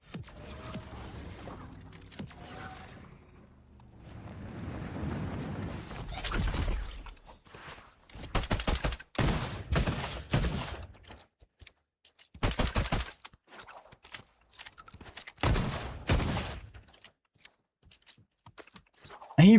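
Rapid bursts of video game gunfire, pistol shots among them, crack out in loud clustered volleys, with quieter gaps and a few softer movement sounds between them.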